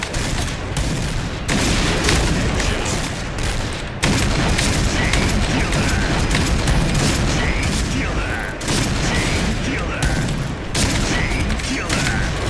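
Gunfire in the video game Point Blank, dense continuous bursts of automatic weapon fire with booming reports, loud and sustained across several volleys, with brief pauses between strings of shots.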